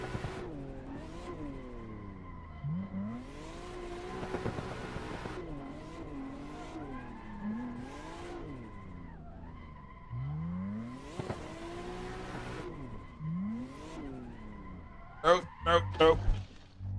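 Car in a driving video game, its engine revving and shifting repeatedly through a lap, with brief tire squeals and skids near the end, all fairly quiet under someone talking.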